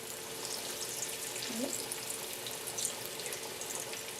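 Taco rice balls fry in a pan with a steady, dense sizzle and occasional sharper pops, heard up close and fairly loud throughout.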